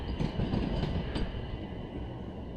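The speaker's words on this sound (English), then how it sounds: "There's a train right over there, cars." A train on the railway near a station rolls past with a steady, broad rumble and faint wheel squeal, continuous and moderately distant, with no talking.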